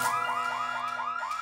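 A saucer alarm wails in an animated cartoon, a loud rapidly rising and falling electronic siren repeating in quick cycles, with no talking.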